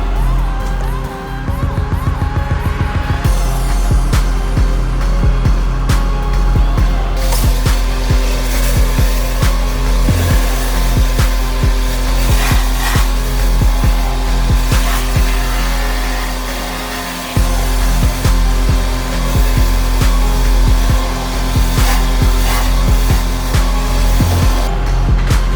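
A pressure washer cleans a brick walkway, a loud continuous roaring spray with engine drone that holds for the whole stretch, briefly dipping midway before resuming.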